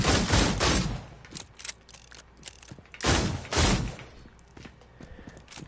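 Quick-fire gunshots in the game Dreams, a handful of loud sharp reports in two clusters, the first three shots rapid, then a pause and two more, with lighter mechanical clicks between.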